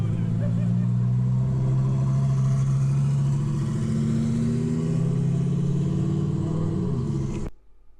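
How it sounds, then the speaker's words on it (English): A Lamborghini Huracan Performante passes at a Tuscan market car show, its loud, steady engine rumble filling the scene for about seven seconds before cutting off abruptly. "So here's a Huracan going by."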